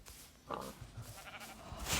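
Sheep bleating in a village in a video game, a few short bleats at moderate volume with faint game ambience and no talk.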